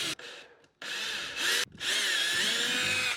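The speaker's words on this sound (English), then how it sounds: "So we'll go ahead and drill the other 3 holes." A power drill bores holes into a Native Slayer Max fishing kayak in short bursts, with several brief whirs and then a longer loud run close by.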